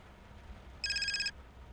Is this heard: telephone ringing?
yes